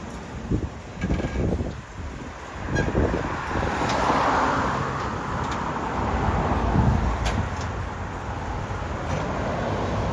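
A 1990 Mercedes 560 SEC (C126) engine runs at a steady idle with a continuous low rumble, a few knocks and timing-chain rattles early on, heard close with no talking.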